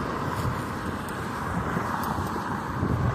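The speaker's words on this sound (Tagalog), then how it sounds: "mahangin ngayon guys" Strong wind roars and buffets steadily throughout, a constant rumbling rush with no voices.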